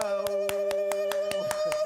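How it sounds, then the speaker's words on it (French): Hands clapping on a TV morning show: about eight evenly spaced sharp claps in under two seconds, close and distinct, over a steady musical tone in the background. "J'applaudis aussi."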